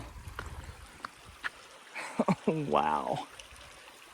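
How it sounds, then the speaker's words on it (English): A mountain creek on the Pacific Crest Trail near Dewey Lakes keeps up a steady, fairly quiet rushing flow, with a hiker speaking over it. "this is a good creek"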